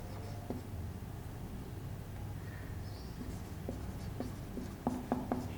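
Chalk or marker writes on a board during a math lecture, soft scratchy strokes throughout that turn into several sharper taps and clicks near the end, faint and with no talk.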